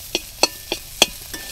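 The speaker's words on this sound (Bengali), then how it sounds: "সেদ্ধ আলুটা দিয়ে নাড়াচাড়া করে" A spoon scrapes and taps through boiled potato and spices in a frying pan, five crisp strokes in a steady rhythm, close and fairly loud with a faint sizzle beneath.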